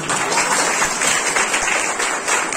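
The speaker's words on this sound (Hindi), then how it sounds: "एक जोरदार ताली बजाइए।" Loud, close audience clapping at a Christian conference session after a prayer; a dense, continuous burst of applause filling the whole stretch without talk.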